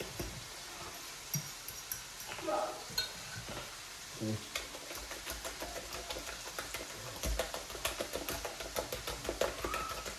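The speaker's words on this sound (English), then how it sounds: "Make sure you're really whisking and getting that air in there." Carbonara sauce with cheese whisked vigorously in a bowl to work air in: rapid, close metallic whisk strokes clicking against the bowl over a low steady hiss, growing busier and more rhythmic in the second half.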